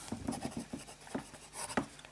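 Fountain pen with a fine nib writing in Montblanc Irish Green ink on paper, a series of soft, close scratching strokes in an uneven rhythm, quiet and alone.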